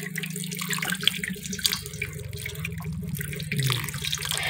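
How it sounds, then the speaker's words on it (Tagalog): Katmon fruit being washed one by one under a running kitchen tap, with a steady close splash of water into a sink and small bumps of the fruit being handled. "iniisa-isa ko po siyang hugasan"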